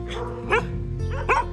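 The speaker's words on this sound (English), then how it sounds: "In other words, the Portuguese water dog." A Portuguese water dog, the old fisherman's breed, gives two short close barks about a second apart over a steady low rumble of background noise.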